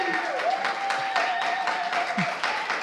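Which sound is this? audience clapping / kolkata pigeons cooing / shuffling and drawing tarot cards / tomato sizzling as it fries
audience clapping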